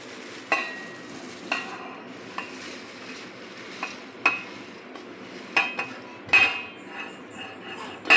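Beaten rice (avalakki) being stirred with a spoon in a metal pot for a sweet dish, sparse sharp clinks and scrapes of the spoon against the pot at irregular intervals over a faint background hiss.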